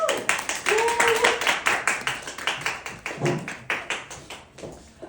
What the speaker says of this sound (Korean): 유효상 강사님을 큰 박수로 모셔보도록 하겠습니다